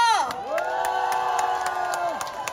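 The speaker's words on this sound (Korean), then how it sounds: "그러면 박수 함성 어떻게 보내주셔야 돼요?" A crowd at a trot concert cheers and shouts, with children's voices and whoops forming a steady roar while sustained tones sweep up and down beneath it.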